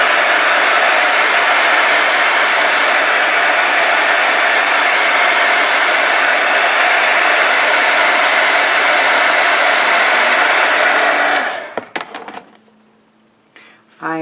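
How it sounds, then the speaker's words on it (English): A heat gun blows hot air to dry pigment ink, a loud steady close-up roar that runs unbroken for about eleven seconds before it shuts off, followed by faint handling noise. "I'm going to hit that with a heat gun just to dry that pigment ink before moving on."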